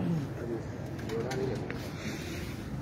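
A pigeon coos softly at a wrestler's training ground where pigeons are kept, low murmuring calls set against steady background noise with people talking nearby.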